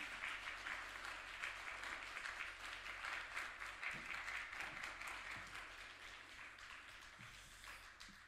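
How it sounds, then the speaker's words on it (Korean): A church congregation at a Sunday worship service claps together to welcome the preacher to the pulpit, a dense, steady wash of applause from a large crowd that carries on for the whole stretch and eases off slightly toward the end. "우리 나오실 때 우리 힘차게 박수로 한번 환영하도록 하겠습니다"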